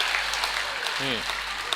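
A crowd at a humour club anniversary celebration claps in a steady, moderately loud wash, with a brief voice-like tone rising through the middle of the applause.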